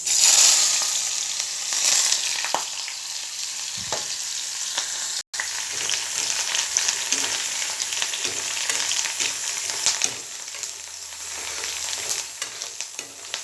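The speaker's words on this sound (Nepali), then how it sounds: "अब मैले चाहिँ यो प्याज काटेको छु, यसलाई म थोरै लाएर भुट्ने छु।" Chopped onion fries in a pan over a high gas flame, a continuous close sizzle with occasional stirring scrapes and clicks, no talking.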